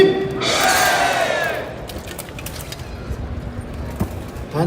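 At a convention panel, a crowd roars a hearty cheer for Sir Grant, the shout rising loudly and then trailing off into scattered murmurs and small knocks.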